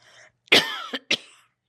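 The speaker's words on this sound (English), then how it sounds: "You want to do that again without the cough?" A single cough from an older woman indoors during a seated interview, a harsh burst followed by two shorter throaty hacks, close and fairly loud against an otherwise quiet room.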